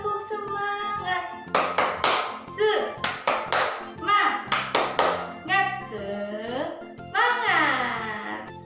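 A rhythmic class cheer clap called tepuk semangat fills an Indonesian classroom lesson: bursts of sharp handclaps in a set pattern, woven between loud chanted voice lines that keep time with the clapping.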